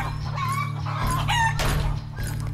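Chickens on a family farm cluck steadily close by while a rooster crows through the clip, the farmyard calls loud and layered over a constant low hum.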